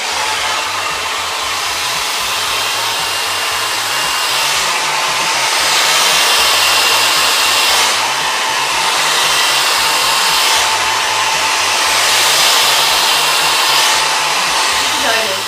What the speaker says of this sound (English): I'm going to take the hairdryer and put it on high speed and high heat.